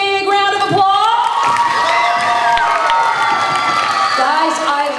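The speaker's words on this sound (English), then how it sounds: "give them a big round of applause?" Schoolchildren at an elementary morning assembly clap and cheer, a loud close crowd of shouting young voices and whoops with applause underneath, sustained across the whole moment.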